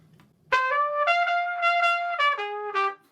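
A jazz trumpet plays a run of swung repeated notes connected on constant airflow, bright and close, the tones flowing without gaps for about two and a half seconds before stopping.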